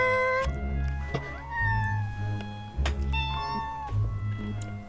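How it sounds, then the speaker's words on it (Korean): A cat meows repeatedly, several drawn-out cries with rising and falling pitch, fairly close and loud, over a steady low background hum. "고양이는 안 보이는 데서 이렇게 울다가 사람하고 눈 마주치면은 야옹"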